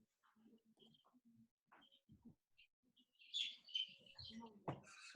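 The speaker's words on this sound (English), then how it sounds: "We got some baby birds here that are going to be peeping along with the music" Newly hatched baby chicks peep in quick, high chirps, faint and scattered at first and then denser and louder near the end, mixed with low murmuring voices and soft background sounds.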